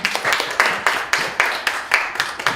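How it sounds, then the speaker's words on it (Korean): Audience applause at a youth seminar on the Park Chung-hee Yushin era: a short burst of rhythmic hand clapping from a small group, a run of distinct sharp claps close by, with no talking. "박수 한번 부탁드릴게요"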